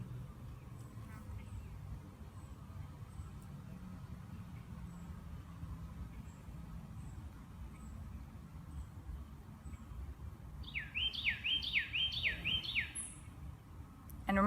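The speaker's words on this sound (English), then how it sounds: "Beautiful sounds of the birds." Outdoors, birds call faintly over a quiet ambient hush, and a nearby run of raspy, duck-like quacks breaks out toward the end.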